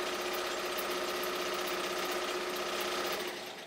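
A machine embroidery unit stitches steadily at a fast, even rhythm, with a constant mechanical whir and rapid needle chatter that sounds close and fairly loud before easing off at the end.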